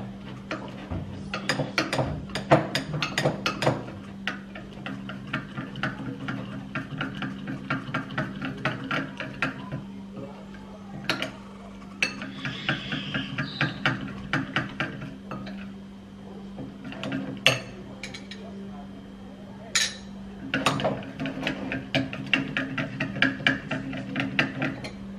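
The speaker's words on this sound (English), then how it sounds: "I'm gonna put some into my mix and stir" A spoon stirs juice into a Vaseline and cornstarch mix in a container, giving repeated clinking and scraping taps in irregular bursts over a steady low hum, close and fairly loud, with no talk.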